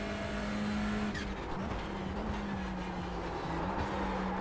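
An Audi GT3 touring car runs at Okayama in iRacing, its engine droning loudly and steadily with brief squeals of tyre skid over the top.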